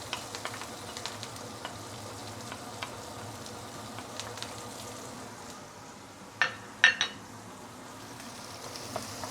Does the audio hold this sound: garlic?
yes